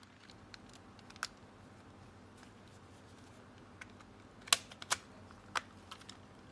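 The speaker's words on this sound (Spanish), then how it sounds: "Que escuchemos los clics." Plastic clips of a PS5 DualSense controller casing snapping shut during reassembly, a few faint sharp clicks spaced apart in a quiet room, with no talking.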